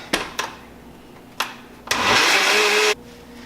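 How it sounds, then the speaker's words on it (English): A blender whirs in a steady, loud burst for about a second, blending a marinade for grilled duck, after a few short knocks and clatters of ingredients going in. "into the blender, and then we're going to blend this."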